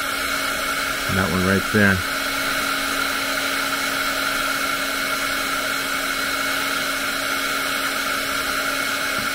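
A hair dryer blows steadily on a wet coffee painting, a constant close-up whir with a hum throughout, briefly under a short spoken remark near the start.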